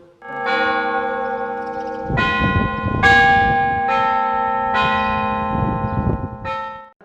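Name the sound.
small hand bell ringing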